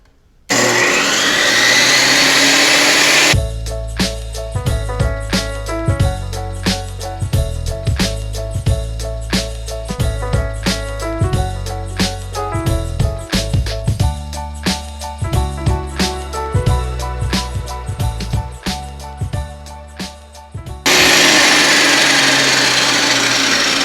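A table saw cuts a quarter-inch-deep groove in a wooden beehive bottom board, loud and close, with the motor's steady drone broken by repeated rhythmic bursts of blade contact across the pass before it spins on alone.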